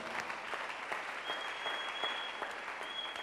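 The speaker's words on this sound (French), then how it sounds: "Clap your hands for Jesus Christ." A church congregation claps and applauds, a dense continuous patter of many hands at moderate volume with a faint sustained tone running through it.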